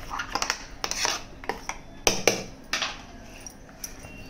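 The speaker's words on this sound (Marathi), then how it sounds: "ह्या पाणी आता असा चमच्यान ढवळून घ्यायचा" A metal spoon stirs water into grated coconut inside a mixer jar while a Konkani-style surmai fish curry is being made, giving a string of irregular light clinks and scrapes against the vessel, close by and fairly quiet, with no talking.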